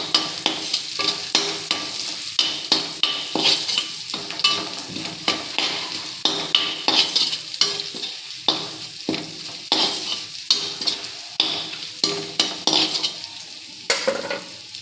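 Cumin seeds fry in hot mustard oil for a fish curry, a continuous close sizzle and crackle broken by frequent rhythmic scraping as a spoon stirs the pan, loud and steady, with no voices.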